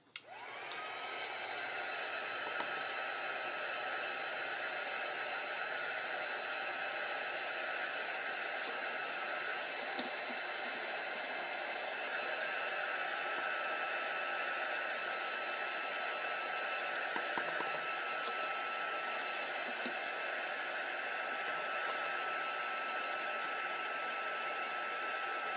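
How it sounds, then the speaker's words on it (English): Constant blowing roar of a heat gun drying a layer of a puzzle-piece craft project, switching on abruptly and then running steadily and close for the whole stretch without a break. "I'm going to get the heat gun and"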